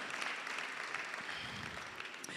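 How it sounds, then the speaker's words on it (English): A graduation audience applauds for a leadership school's class of 2021, a dense, steady wash of many hands clapping at an even level throughout, with no speech on top. "So let's clap for each other."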